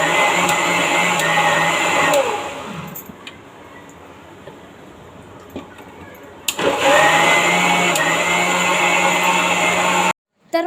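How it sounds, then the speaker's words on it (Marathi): A kitchen mixer grinder grinds masala spices in a loud, steady motor whir for about two seconds. It drops away, then starts again and runs for several more seconds before cutting off abruptly. "सो चला आता मिक्सरला आपण गरका मारूया."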